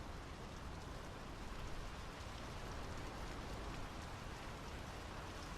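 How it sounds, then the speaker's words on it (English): Steady rain falls in the video game Draugen, a dense, even hiss of drops on surfaces that holds constant and fairly faint throughout, with no voices. "The rain's picking up."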